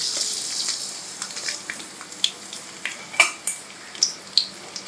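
Chopped garlic dropped into hot oil for Schezwan noodles, a steady sizzle punctuated by sharp clicks and pops of a spoon, close and fairly loud.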